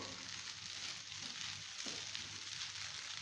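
Chana dal halwa roasts in a pan with a soft, steady frying sizzle throughout, faint and close, with no voices.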